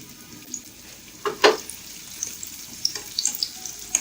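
Cashews and raisins frying in oil, a steady close sizzle punctuated by sharper spitting crackles and a few louder pops and scrapes in the pan.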